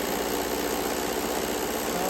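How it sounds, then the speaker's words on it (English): A sewing machine runs steadily while stitching fabric scraps together as quilting beginners and enders, giving a continuous motor whir and hum with no pauses and no talk. "I will just sew those together."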